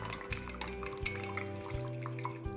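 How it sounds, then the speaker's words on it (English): A spoon stirs a warm mixture in a pot to melt the ingredients together, giving a quiet series of soft scrapes and light clinks against the pan under a low steady hum. "And then you wanna give this a really good stir to get everything melted and incorporated together."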